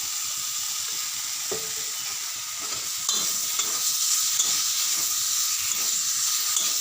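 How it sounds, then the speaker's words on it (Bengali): Rice powder for a bathua greens dish is stirred and fried in a pan, with a continuous sizzle and repeated scraping strokes of the spoon. The sizzle grows slightly louder halfway through. "একটু ভাজা ভাজা করে নিই"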